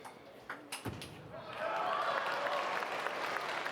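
Table tennis spectators clap for Marcos Freitas at a men's singles match, with a few scattered knocks and a sharp impact early, then steady rhythmic clapping swelling to fill the rest under a commentator's voice.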